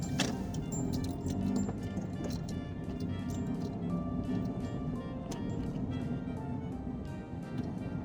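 A car is driven at a steady pace. The cabin holds a constant low road rumble with scattered small rattles and clicks, and nobody speaks.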